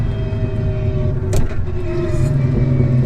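A 1000 bhp sleeper car with a sequential transmission, heard from inside while driving: a loud, steady engine drone with transmission whine and rising turbo spool, broken by one brief sharp transient partway through.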